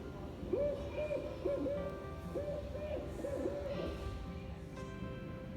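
Recorded owl hoots played back by pressing a button at a display, a series of four soft, evenly spaced hooting calls, close and clear over low background noise.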